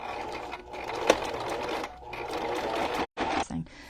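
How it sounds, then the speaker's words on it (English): A sewing machine stitches ribbon onto a journal cover, a steady close mechanical whirr that stops briefly near the end and then starts again. "Make sure your ribbon is over so you don't sew it crooked"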